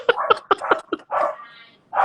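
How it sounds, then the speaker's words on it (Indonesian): A dog barks in a quick burst of sharp yips, followed by two longer, whining barks with a short pause between them, close and loud. "Dari tadi tenang, tiba-tiba menggonggong"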